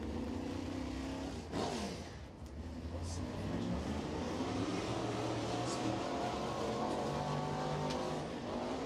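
Crate race car at speed on the Crossville, Tennessee speedway during qualifying, its engine roaring steadily throughout with rising and falling pitch as it laps, close and loud for the whole stretch.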